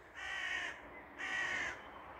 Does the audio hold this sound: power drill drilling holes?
no